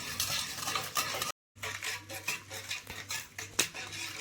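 A spoon stirs a thick papaya halwa mixture with custard powder in a pan, making close, uneven scraping and clacking strokes against the metal with a light sizzle beneath, broken by a brief silent gap.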